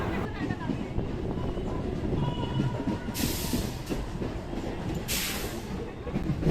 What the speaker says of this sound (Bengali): বাপরে, ট্রেনটা তো হুড়হুড় করে ছুটছে।